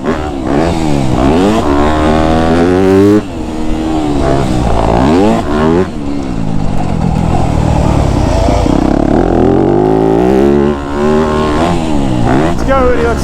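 A dirt bike circles a track held in one gear, its engine loud and close, swelling and dropping in pitch over and over as the throttle opens and closes.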